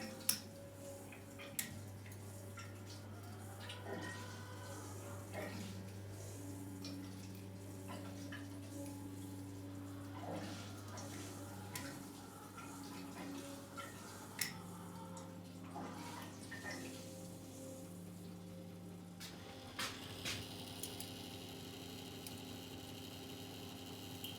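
A heating pump pulling stored water from tanks in arctic winter hums low and steady with shifting mechanical tones, faint ticks and a trickle of water beneath, fairly quiet with no voices.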